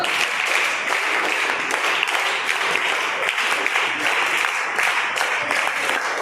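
A school auditorium audience performs raindrop claps for a group of fourth graders, a steady, dense patter of many hands that sounds like rainfall and stays even and moderately loud throughout.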